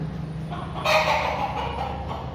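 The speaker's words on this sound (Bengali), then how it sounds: "আমার একটা দেশি মুরগি কুচে বসে গেছে" A broody native hen clucks close by in a low, throaty run that rises into a louder burst midway, then settles back into murmuring.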